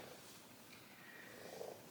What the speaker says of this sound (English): Oh, big purr and a kiss.